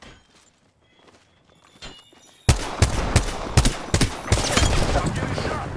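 Apex Legends gunfire erupts as a sudden loud burst of rapid shots partway through, after a quieter stretch of faint clicks, with a dense volley of overlapping cracks continuing to the end.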